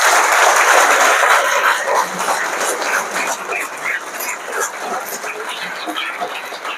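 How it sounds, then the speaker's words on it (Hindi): A school audience of students at an inter college claps overhead in a dense, continuous burst of hand claps that stays loud and fills the whole stretch, slowly thinning slightly toward the end. "ओके, ऊपर ताली बजाएंगे।"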